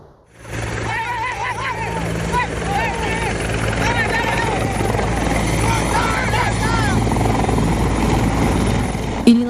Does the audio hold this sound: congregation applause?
no